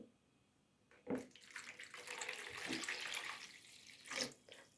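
About 600 grams of warm water pours in a steady gushing stream into a bowl for pizza dough, close by, starting with a splash and ending with a few final drips.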